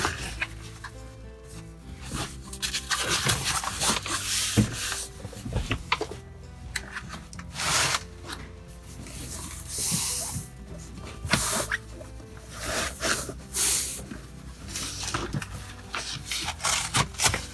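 Fabric rustles, scrapes and snaps as a seat cover is tugged and stretched over a 2006 Ford F350 truck seat, in irregular close bursts of rubbing with short quiet gaps.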